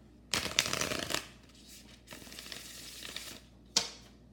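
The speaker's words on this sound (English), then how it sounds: "I'm just doing one shuffle on camera and cutting the cards on camera" Tarot cards being shuffled by hand in a quiet room: a few riffling bursts, near and fairly soft, with short pauses between them.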